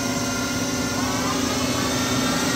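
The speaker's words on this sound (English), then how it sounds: "Spindle speed going up." The spindle of a Nakamura Tome TMC-15 CNC lathe turning center spins fast as a steady mechanical whir with a faint tonal hum, heard at close range and fairly even in loudness across the short stretch.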